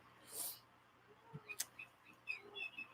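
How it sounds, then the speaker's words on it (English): A bird chirps outside in a few faint, quick tweets, scattered and brief against a quiet indoor background. "Hear the bird?"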